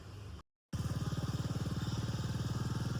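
A motorcycle engine idles close by with a rapid, even thumping pulse, starting after a short silent gap and holding steady to the end.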